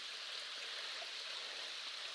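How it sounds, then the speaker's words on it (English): Fitzgerald Falls on the Appalachian Trail, a small waterfall running low, gives a steady, even rush of falling water heard from a distance, soft and unbroken, with no voices. "I think we have a waterfall coming up here in just a little while"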